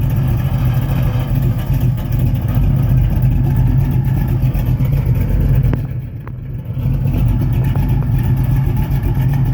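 An S code 390 Cougar's V8 rumbles steadily and loudly close by as the car pulls off and drives, with a brief dip in engine noise partway through before the drone returns.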